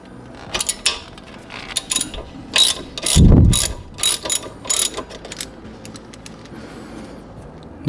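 A ratchet clicks as it loosens a number 7 hex screw on a Ford Focus ST brake caliper, several short bursts of crisp pawl ticking, close and fairly loud, with a brief low clunk in the middle.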